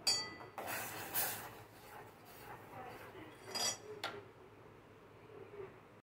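A spoon scrapes and clinks against a pan while ground sago halwa mixture is stirred, giving a few sharp metallic knocks amid soft, continuous scraping at close range.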